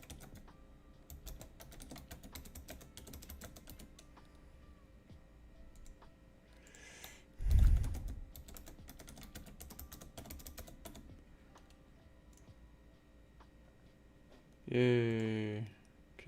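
Keys clicking steadily on a computer keyboard as a new password is entered, soft and close, with a louder thump partway through and a brief voice near the end.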